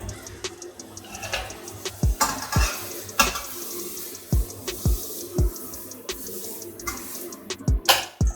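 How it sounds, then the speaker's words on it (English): A crabby patty (Australian style) frying in a pan, giving a soft steady sizzle broken by repeated sharp clicks and taps of a utensil against the pan. "you just want to take one of your patties and then just put it in the pan"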